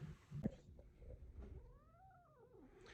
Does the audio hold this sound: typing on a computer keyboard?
no